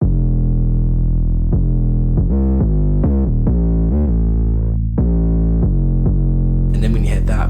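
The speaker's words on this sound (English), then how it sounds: "I was really happy with the 808 bass line that I created" Distorted 808 bass line in a drill-style beat, a loud sustained low tone stepping through repeated notes with sharp re-triggered hits, ending with a brighter noisy burst of percussion.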